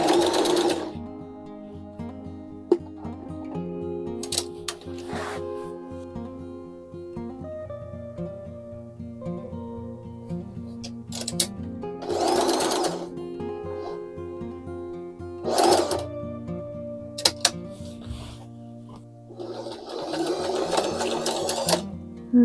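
A sewing machine stitches zigzag while mending jeans, its motor humming and clattering steadily in close bursts, broken by louder handling knocks and short pauses.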